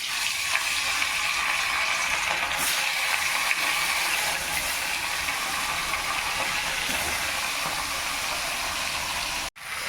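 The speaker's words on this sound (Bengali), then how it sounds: "কড়াইতে তেল গরম হয়ে গেছে, এবার মাছগুলো ছেড়ে দেবো।" Fish frying in hot oil in a wok gives a dense, loud, continuous crackling sizzle close by, holding steady for the whole stretch with only a brief dip near the end.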